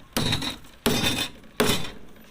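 Three loud, sharp hammer strikes ring out at an even pace, each followed by a brief decaying ring, as nails are driven into a fiberglass boat's engine mount.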